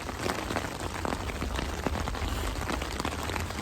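Relentless downpour pelts a solo backpacker's tent, a thick, unbroken hiss of close raindrops with scattered sharper hits and no voices.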